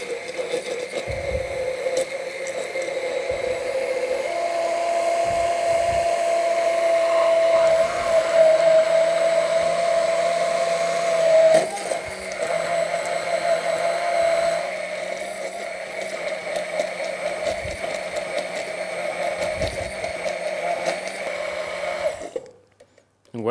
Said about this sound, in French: je vais venir la mixer.